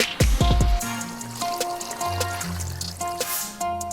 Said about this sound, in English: We're gonna add the water to the chicken.